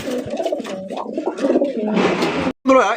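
Pigeons at a village pigeon market in Bangladesh coo and burble in low, throaty calls, several overlapping nearby, with a brief pause before another round of cooing.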